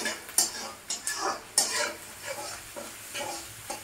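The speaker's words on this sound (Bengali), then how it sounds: "তো আমার এখানে পেঁয়াজটা ভাজা হয়ে গেছে" Fried onions in a pan for Bengali fish curry being stirred, with a series of scraping spoon strokes over a soft sizzle, close and moderately loud.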